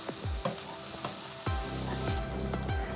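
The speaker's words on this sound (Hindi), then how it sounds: "ये मीडियम आंच पे हमने है ना तकरीबन 3 मिनट इसे फ्राई करना है" Pizza cutlet mixture with dried mint fries on medium heat, sizzling steadily while a spoon scrapes and stirs the pan in several quick strokes over three seconds.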